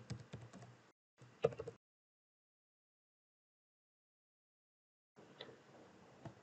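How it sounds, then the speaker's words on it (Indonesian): Quick tapping on a computer keyboard while coding, two short bursts of close clicking keystrokes, then silence, and a final burst of typing at the end. "Kita ketikkan"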